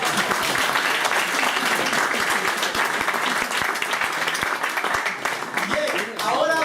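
An audience applauds at a live event, a steady, dense wash of many hands clapping that carries loudly through the whole stretch, with a few sharper individual claps standing out.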